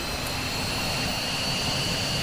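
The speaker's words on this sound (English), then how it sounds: "And then let's turn on the engine." A jet engine in the VTOL VR flight simulator game spinning up with the brakes on, giving a loud, continuous roar with a high whine that holds steady throughout.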